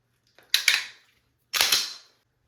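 Two crisp dry-fire trigger clicks from a pistol, spaced about a second apart. Each is a sharp, close mechanical snap with a quick double transient, in a quiet room.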